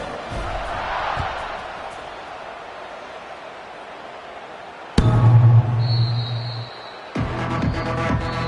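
Football stadium crowd waiting for a kickoff after a scoring run: a broad, steady roar of many voices that swells suddenly partway through, with a horn-like tone and renewed noise near the end.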